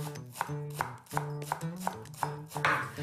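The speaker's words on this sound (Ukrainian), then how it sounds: "Цибулю дрібно шаткуємо." Young green onion being finely chopped on a board: a knife strikes in a steady, brisk rhythm of about eight close, crisp chops over soft background music.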